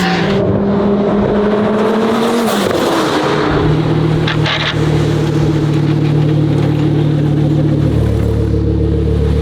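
A twin-turbo Lamborghini V10 supercar accelerates hard, the engine note climbing through the gears with a shift around the midpoint, then settling into a loud, sustained high-revving drone, close and with no talk.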